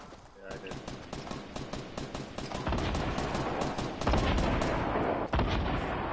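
Rapid gunfire in a Fortnite Battle Royale match, a fast stream of sharp repeated shots that thickens into a loud, dense barrage, with players talking over it.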